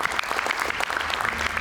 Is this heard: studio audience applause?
yes